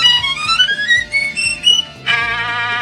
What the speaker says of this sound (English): And the St. George Concerto, Opus 5, number 2, goes...